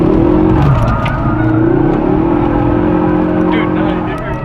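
A Ford Focus RS engine revs hard in drift mode, a loud sustained drone with rising and falling pitch that runs nearly the whole time, and voices can be heard over it.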